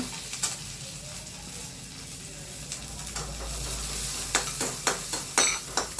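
About ten cloves of finely chopped garlic fry in a little sesame oil, giving a steady close sizzle with crackling pops and sharp spatter bursts that grow busier toward the end, with no talking.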